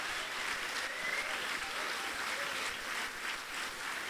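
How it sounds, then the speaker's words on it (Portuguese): Steady crowd applause at a church service fills the whole stretch, a dense wash of many hands clapping at an even level with no clear pauses. "Dê um aplauso a Jesus bem forte."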